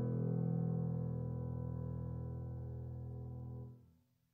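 A soloed piano part from a James Bond-style orchestral track produced in Cubase: one sustained low chord ringing out smoothly, then decaying away near the end, with no other instruments.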